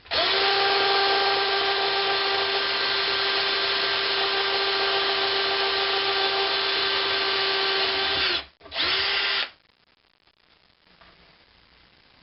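A power drill fitted with a number bit close to 1/8 inch bores into sheet metal on a Princeton 112 Plus amplifier repair, a loud steady whine running about eight seconds, then a brief dip and restart before it winds down.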